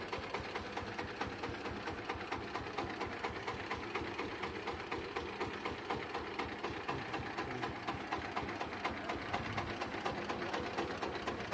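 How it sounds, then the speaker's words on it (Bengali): A Sigma Super motor van with a 1110 engine rated at 20 HP runs with a steady, rapid mechanical chatter, even and continuous, heard alone at a modest distance. "দেখতেই পাচ্ছেন বন্ধুরা, গাড়িটি স্টার্ট দিয়ে দেখানো হচ্ছে একবার।"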